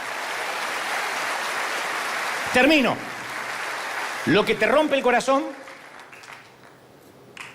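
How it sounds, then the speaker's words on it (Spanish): An audience at a preacher's sermon applauds with dense, steady clapping for a few seconds, then fades under a man's speech. "Alguien tiene que aplaudir más que eso"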